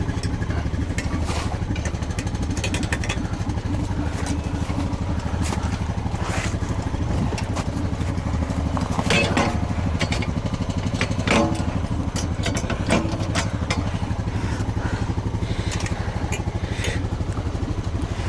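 Four-wheeler ATV engine running near a field, a steady loud mechanical drone with rattling clatter throughout, no talking.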